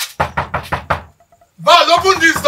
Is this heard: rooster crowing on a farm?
no